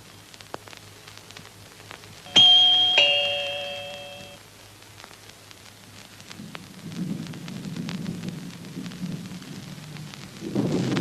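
Rain and thunder in a drama scene: a sharp ringing chime-like strike fades out, then a soft low rumble and steady rain wash builds toward the end, with no voices.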